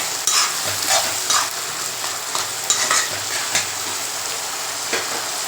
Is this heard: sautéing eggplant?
yes